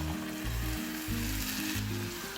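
Ground coconut paste hits a hot frying pan for a milk fish curry, making a loud, steady, crackling sizzle that runs unbroken from start to finish without any talk.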